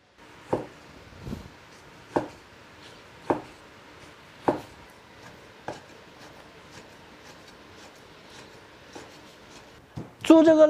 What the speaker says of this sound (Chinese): 选择半肥瘦的猪肉，先切一下再来剁